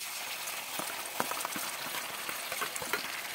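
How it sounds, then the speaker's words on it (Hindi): Browned onion and a ground spice paste frying in hot oil for a parwal bhaji, a steady close sizzle with scattered pops and a few stirring scrapes, and no voices. "लालसर कांदा झालेला आहे, त्याच्यामध्ये आपण केलेला पेस्ट टाकू।"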